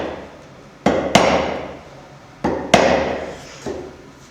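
A hammer strikes a chisel chopping into a wooden door for a hinge: sharp, close taps, mostly in pairs, each ringing briefly before fading, with quiet pauses between.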